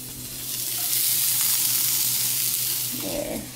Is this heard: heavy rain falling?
no